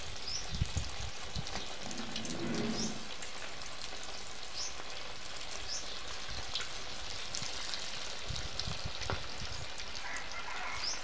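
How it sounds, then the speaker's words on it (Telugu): Crispy street-style chicken pakoda pieces sizzle in hot oil, a steady, dense crackling hiss close by that continues without a break, with occasional louder pops and no talking. "నూనె కాలింది. ఒక్కొక్కటి మెల్లమెల్లగా విడివిడిగా వేసుకోవాలి."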